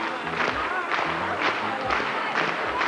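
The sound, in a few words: studio audience clapping during a Simon Says game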